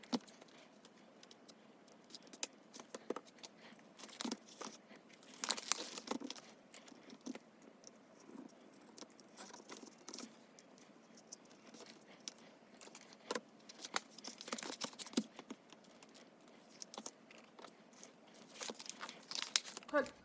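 Snap button cut off a leather strap of a Chic Sparrow nano traveler's notebook, with repeated small crinkling, crunching and snipping sounds spread across the clip, close and fairly quiet, with no talking.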